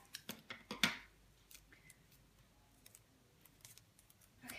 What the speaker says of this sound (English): I'm just taking my precision scissors and just trimming along the edge.